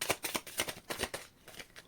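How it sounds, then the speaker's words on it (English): Quiet, close-up riffling of a deck of cards, a quick series of soft papery flutters in an uneven rhythm. "Last shuffle."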